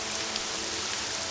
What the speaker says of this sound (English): Oh my god, that rain is horrifically noisy.